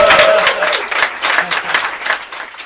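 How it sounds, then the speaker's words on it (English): Loud audience applause with dense clapping, starting strong and gradually thinning out, with a brief whistle or cheer at the start. "I want the loudest clap for that man"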